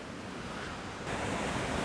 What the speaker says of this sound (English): There's still waves getting up this far, so you've still got to keep an eye on that.